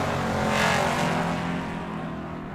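Drag racing cars, a 1968 and a 1965 Chevelle, race toward the finish line at Tucson Dragway, a loud sustained engine roar heard from a distance that swells briefly and then slowly fades.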